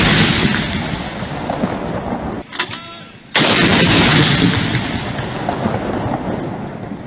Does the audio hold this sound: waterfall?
no